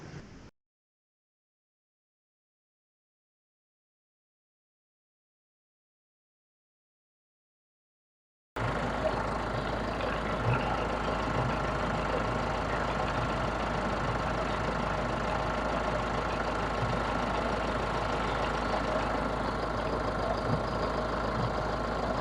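Several seconds of silence, then the steady, low engine idle of a 2012 Mahindra Xylo rumbles in and holds at an even level to the end, with no voices.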